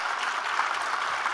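Sustained audience applause at a talk event, a dense steady patter of clapping filling the whole short stretch.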